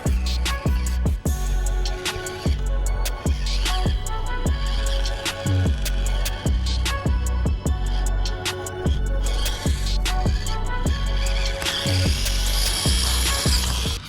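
Axial AX24 XC-1 mini RC crawler with a 130 motor and 10 amp speed controller climbing over obstacles: a thin whirring drivetrain hum broken by repeated sharp plastic clicks and knocks at an uneven pace, with no talk.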